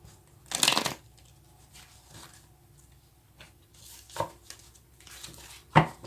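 Tarot cards being shuffled during a reading: quiet, brief riffling and rustling bursts, one near the start and a few short ones later, with soft pauses between and no talk.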